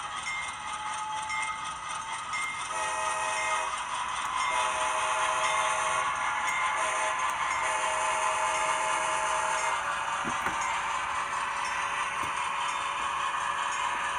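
A ScaleTrains C40-9 model diesel locomotive runs in reverse, giving off a steady electronic engine drone with whistle-like tones and a few faint clicks, moderately quiet and continuous.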